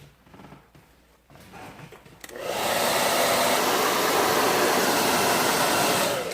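A hair dryer blasts onto fresh acrylic paint for an underpainting, switching on after a quieter start and then roaring loud and steady to the end.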